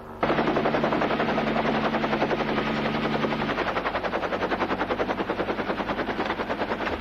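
A loud, steady rhythmic chopping of helicopter rotor blades in a 1975 film, continuous and close, with a whirring engine drone underneath and no voices.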